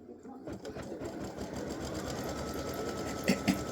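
An embroidery machine sews a pink placement stitch outlining a gnome girl's hair for a Christmas appliqué design, a steady rapid mechanical chatter close by, with someone talking over it.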